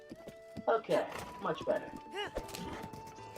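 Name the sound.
horse hooves clip-clopping in Zelda Breath of the Wild video game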